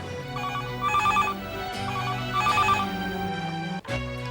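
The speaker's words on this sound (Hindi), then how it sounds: "नम्रता बहन, आपके लिए टेलीफोन" A telephone rings in a Hindi thriller drama scene, a repeating electronic trill in two bursts with a short pause between them, loud and clear with no voices over it.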